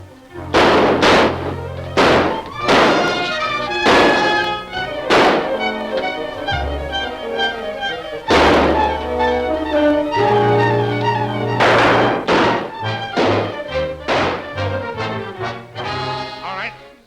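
Gunfire from a 1942 wartime gangster film, a rapid series of sharp loud bangs and thuds repeating across the scene, with music and brief shouting voices mixed among the shots.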